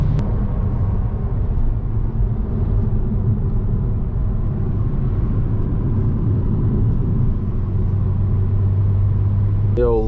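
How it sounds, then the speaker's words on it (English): Jetta wagon with a 12v VR6 engine cruising at speed on the Autobahn, a steady low interior drone of engine and road rumble with no talk. "Doing our first trip on the Autobahn with the wagon"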